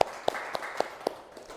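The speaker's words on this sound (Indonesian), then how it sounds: "tepuk tangan buat kelompok A" A few scattered, separate hand claps ring out in a classroom to applaud a student group, faint and spaced apart rather than a full round of applause.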